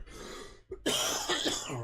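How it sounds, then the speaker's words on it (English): Someone who is sick coughs harshly twice up close, a brief gap between bursts, then clears the throat with a rough, raspy sound that trails off at the end. "I'm gonna be coughing in your ear."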